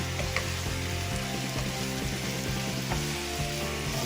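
Very big shrimp fry in hot oil for a Guyanese shrimp curry, giving a loud, dense, continuous sizzle and crackle heard up close without pause.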